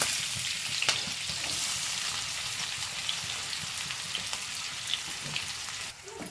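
Chopped onions hit hot oil with cardamom, cloves and green chillies for an egg and green peas curry, giving a steady, close sizzle and crackle throughout with a few light clinks of stirring.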